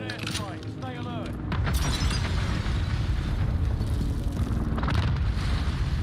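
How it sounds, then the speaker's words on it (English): An enemy precision airstrike pounds the area in Call of Duty Modern Warfare II, a loud, continuous barrage of rumbling blasts and crackling debris after a brief quieter start, with voices briefly audible near the beginning. "Enemy precision airstrike."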